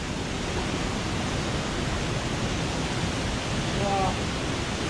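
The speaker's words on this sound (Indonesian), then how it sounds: "Gila, air terjun." A waterfall pours into a Sumatran rainforest stream, producing a loud, steady broadband rush of falling water that fills the whole stretch without pause.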